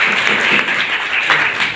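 Students at a college session break into applause, a short burst of close, fairly loud clapping from a group that carries on without pause.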